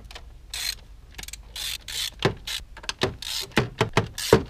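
A ratchet with a 10 mm socket and extension loosens the four blow-off valve bolts on a Kia Stinger 3.3T, giving close, loud bursts of rapid clicking in uneven runs, with short pauses between strokes.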